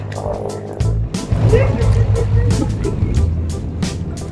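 A narrowboat's engine running on a river, a low steady motor hum that picks up after the first second and carries on under people talking nearby.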